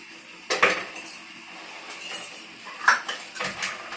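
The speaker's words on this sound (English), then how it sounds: "noise you hear in the background. That's just me rinsing off some of the dishes." A few sharp clinks of dishes and cutlery knocking together near a sink, scattered over a quiet background.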